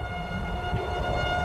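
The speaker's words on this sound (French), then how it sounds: "la sirène d'alarme qui hurlait en ville." A town tornado alarm siren wails steadily from a distance, carried on the wind, a sustained tone over a low, rumbling background.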